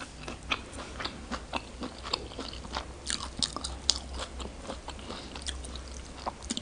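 Close, crisp crunching and biting as fresh raw vegetables and spicy Thai laab are chewed in a steady, irregular rhythm with no talking.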